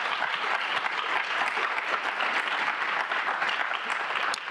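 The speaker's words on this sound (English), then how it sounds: "I think that deserves a round of applause." An audience at a downtown business forum applauds, a full, sustained burst of many hands clapping close and fairly loud, steady for several seconds without speech.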